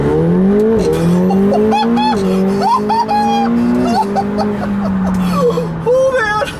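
A 2018 McLaren 720S accelerates hard down a straight road, its engine loud and close, the pitch climbing through several gears with short drops at each shift.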